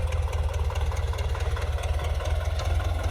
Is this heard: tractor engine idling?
yes